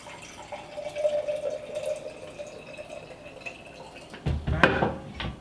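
Infused water poured into a container, a thin trickling stream with a rising pitch as it fills, followed near the end by louder clinks and knocks of a glass or jar being handled, no talking.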